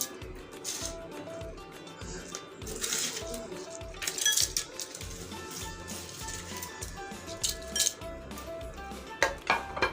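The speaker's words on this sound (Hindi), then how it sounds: "पहले हम गिलास में डालेंगे थोड़ी सी बर्फ़ जो हमने चूड़ा करके रखी हुई थी" Crushed ice being spooned into a serving glass for rabri falooda: close, irregular clinks and scrapes of ice and utensil against glass, fairly quiet.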